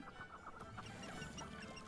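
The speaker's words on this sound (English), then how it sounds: "There were chickens." Chickens clucking in the video game Hogwarts Legacy, several birds giving quiet, repeated clucks and calls against soft background ambience, with no talk.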